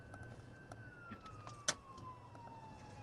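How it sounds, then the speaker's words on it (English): A police car siren during a vehicle pursuit, heard as a faint, slowly falling wail that runs through the whole stretch over a low background hum, with one sharp click partway through. "Yes, the siren's on"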